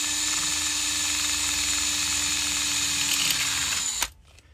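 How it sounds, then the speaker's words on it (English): A drill bores a hole into the steel part of a seal during car engine and transaxle work, holding one loud, steady whine close up for about four seconds before stopping abruptly. "I'm going to start by drilling a hole in the actual steel part of the seal"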